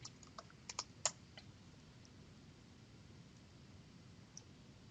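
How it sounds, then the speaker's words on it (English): Computer keyboard typing in a quiet room, a few soft, close key clicks clustered near the start, then faint steady background hiss. "I'll just type in here simulation."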